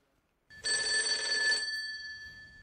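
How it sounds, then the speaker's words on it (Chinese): A telephone rings indoors: a single bright, trilling ring starts after a short silence, lasts about a second, then fades away. "这孩子在一个屋还给我打啥电话？"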